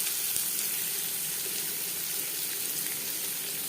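Chopped onion hits a teaspoon of hot refined oil, giving a continuous hissing sizzle that stays close and even, with no voices.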